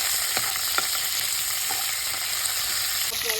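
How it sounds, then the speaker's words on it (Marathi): Soaked, peeled peanuts with semolina roast in ghee, giving a steady close sizzle with a few light scraping stirs of a spatula, no talking. "आता आपण तुपावरती भाजायचा आहे"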